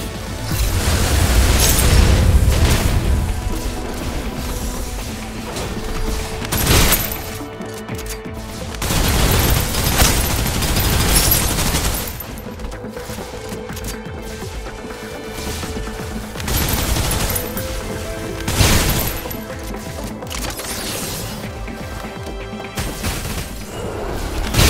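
Dense gunfire in the action game Snowbreak: Containment Zone during a chapter 2 boss fight: loud, sustained volleys of rapid shots mixed with heavy booms and crashing impacts, swelling and easing in waves.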